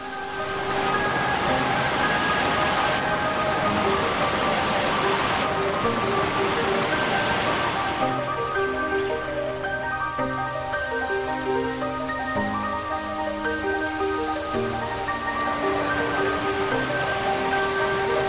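Waterfalls at Monasterio de Piedra, with water falling in a mass between rocks, give a loud, continuous rushing roar from close by, with tonal music playing over it throughout.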